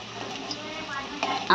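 Boiled potatoes fry in a pan with a soft, steady sizzle, and a few light clinks of a utensil against the pan come near the end. Someone talks over it.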